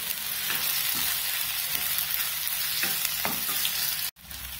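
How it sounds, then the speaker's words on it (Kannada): Chopped onion, green chilli and small-cut tomato sizzle steadily in a pan, a close, continuous frying hiss with soft stirring scrapes throughout. "ಸ್ವಲ್ಪ ಫ್ರೈ ಆಗಲಿ"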